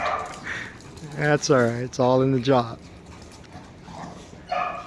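Dogs at play give a few close, high barks and yips in a quick cluster, while someone talks calmly nearby.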